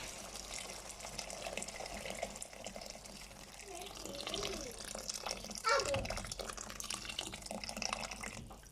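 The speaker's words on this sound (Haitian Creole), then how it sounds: "ça c'est coupé d'ouette, qu'on a ajouté de l'eau" Water pours steadily into a cooking pot while a Haitian rice dish with vegetables and leaves is prepared, a continuous splashing and trickling that runs throughout, with a person talking over it.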